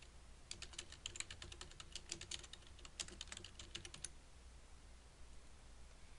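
Rapid, steady keystrokes on a computer keyboard, crisp and close but soft, running for a few seconds and then stopping over a faint background hum.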